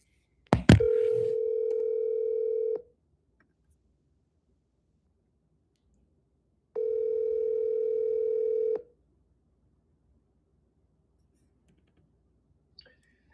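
A handset clicks off the hook and a telephone gives two steady ringback tones while a call is placed, each about two seconds long with silence between them. A faint click follows near the end.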